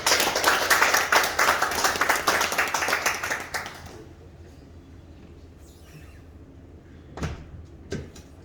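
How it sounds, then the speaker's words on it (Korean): A church congregation claps to welcome a visiting preacher at a Christmas service. The applause is fairly loud for about four seconds, then stops, leaving a quiet room with a couple of faint knocks. "박수로 환영합니다"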